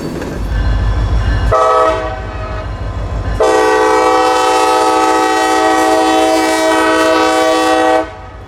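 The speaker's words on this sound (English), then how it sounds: "the end of train B339 is coming across US 41" A long freight train rumbles past loudly at a road crossing while a horn blares in long, sustained blasts, with clattering wheels underneath throughout.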